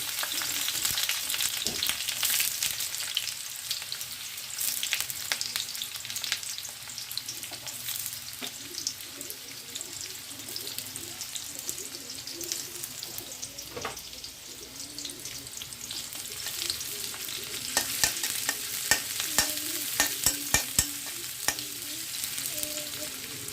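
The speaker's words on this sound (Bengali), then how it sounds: "কড়াই দেখো তেলটা গরম হয়ে গেছে সবার প্রথমে হলো কুমড়ো ভাজাটা করে নেব তো চলো কড়াইতে দিয়ে দিচ্ছি পেঁয়াজ কুচি" Chopped onion sizzles and crackles steadily in hot oil in a wok, a continuous close frying hiss with occasional sharper pops and stirring scrapes throughout, no voices.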